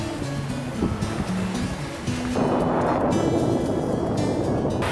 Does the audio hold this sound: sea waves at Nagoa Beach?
yes